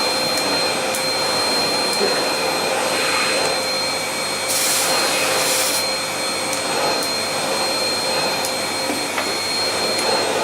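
An Amazon Basics bagless cylinder vacuum cleaner, a 2.5 L, 700 W model, runs close by with a loud, constant whirring roar that holds steady throughout, briefly swelling midway, with no voices.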